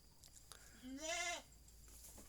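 A Jawa Randu goat gives a single loud, wavering bleat close by, rising then falling over about half a second against a quiet farm background.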